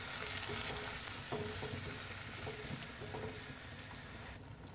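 Tomato puree with Kashmiri red chili powder is stirred and sizzles in a pan for red sauce pasta, giving a steady soft frying hiss with faint spoon scrapes, quiet and without voices.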